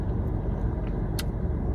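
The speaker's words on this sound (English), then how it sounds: "there's a car coming" A car rolls past outdoors as a steady, moderately loud road rumble that holds evenly for the whole moment, with a brief brighter hiss near the end and no voices over it.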